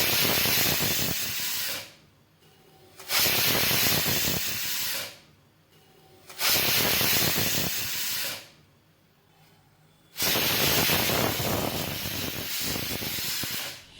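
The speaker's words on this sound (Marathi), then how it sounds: "कुकरची पहिली शिट्टी मोठ्या आचेवर करायची आहे" A pressure cooker on high flame for mutton biryani lets out its whistle in repeated loud hissing steam bursts, each lasting a couple of seconds, separated by short quieter gaps, with no voices.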